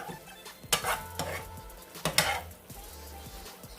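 Shrimp cooking in a pan over high heat, with soft sizzling under sharp scrapes and clatters of a utensil stirring against the pan, two louder tossing bursts among quieter stirring.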